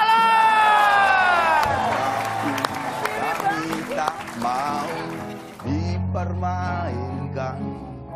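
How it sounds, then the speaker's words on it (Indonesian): A crowd at an Indonesian TV talk show cheers and applauds for Iwan Fals, loud and sustained beneath a host's voice and melodic tones, the noise dropping and then resuming near the end. "Tepuk tangan buat Iwan Fals!"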